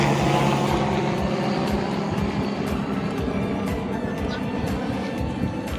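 A helicopter drones overhead with a steady rotor chop throughout, a broad continuous rumble that is loud and close, and speech is faintly mixed in.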